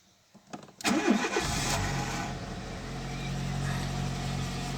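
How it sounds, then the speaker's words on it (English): A Seat Arosa small car engine cranks briefly, catches and starts, then settles into a steady close idle with no talk over it. "Let's fire this bad boy up"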